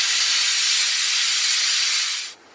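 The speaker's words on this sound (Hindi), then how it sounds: "मीडियम फ्लेम पे 1 सीटी हो गई है तो गैस ऑफ कर देते हैं" A loud, continuous pressure cooker whistle hisses steadily for about two seconds over a medium gas flame while cooking vegetable tahari, then cuts off abruptly, leaving quiet room tone.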